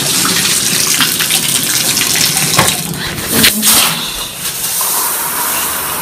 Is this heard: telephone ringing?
no